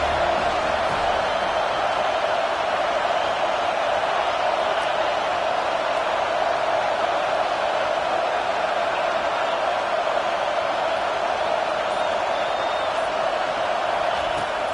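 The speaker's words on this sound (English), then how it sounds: "This crowd bringing the energy and noise early." Stadium crowd noise at a football game forms a loud, unbroken roar with a steady wash of voices and no distinct cheers or peaks.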